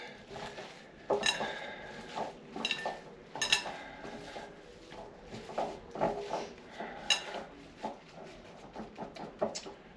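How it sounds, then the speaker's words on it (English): A spoon scrapes and clinks in a bowl as chili powder and other seasonings are mixed into a stuffed pepper filling, with repeated rhythmic metallic taps and stirring strokes close to the microphone. "Mix that all up really good."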